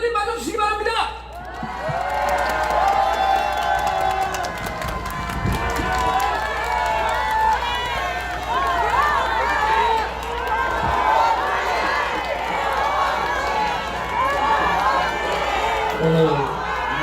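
A large outdoor crowd at a hot-weather Korean political rally cheers and shouts continuously, a dense roar of many voices with whoops and an amplified voice over it.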